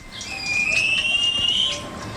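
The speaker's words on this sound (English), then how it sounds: "That's its alarm call, best heard from a distance." A southern cassowary gives an alarm call, heard as a long, thin, rising whistle-like tone held for over a second over a steady background hiss.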